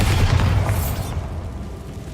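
A Bombarda explosion spell going off in the Hogwarts Legacy game, a loud booming blast with a rumbling low end that fades over about a second into a steady dull background.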